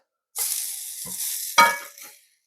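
Breakfast food frying in a pan on the stove, a sudden close sizzle that holds steady then flares briefly before fading out.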